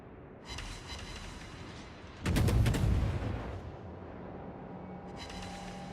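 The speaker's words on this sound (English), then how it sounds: "I love the sound of the guns" Warship guns firing in World of Warships: a heavy, loud salvo bursts out midway, with sharper distant reports at the start and end over a steady background rumble.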